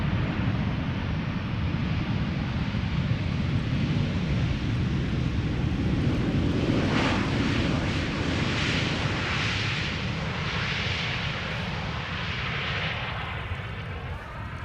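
An airliner first flown in July 2000 passes at Schiphol Airport, a loud broad jet roar with deep rumble that swells and slowly shifts as it goes by, with no voices.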